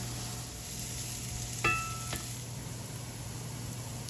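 Vegetables and bell peppers fry in a pan for a frittata, giving a quiet, steady sizzle with a low hum beneath it and one brief clink of a utensil partway through.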